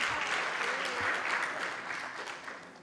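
Audience at a college policy conference applauding a staff member, a steady wash of clapping from a seated crowd that fades slightly toward the end.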